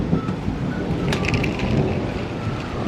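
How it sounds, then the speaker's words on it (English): Thunder rumbles low and steady beneath rainfall during a storm, with a brighter crack of thunder midway through; the rumble is continuous and fairly loud, and no one speaks. "Whoa, you hear that thunder?"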